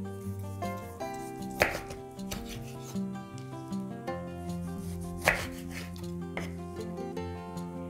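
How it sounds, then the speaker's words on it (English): A knife slices a lemon on a board in repeated soft cuts with a few sharper knocks. Steady background music plays underneath. "cut the lemon into slices"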